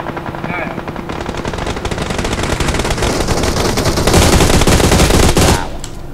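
Rapid automatic gunfire rattles out in PUBG Mobile, building into a long, loud sustained burst of shots before cutting off abruptly near the end.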